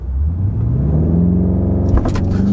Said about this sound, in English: And I'm going to quickly try and do a little brake torque launch here.